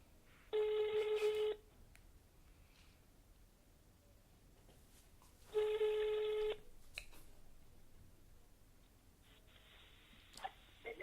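Outgoing telephone call ringback: two distinct one-second ring tones separated by a pause, followed by a fainter third tone, over quiet room background.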